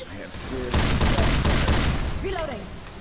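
Bursts of rapid automatic gunfire from the video game Left 4 Dead 2, loud and sustained for about two seconds, with players talking before and after.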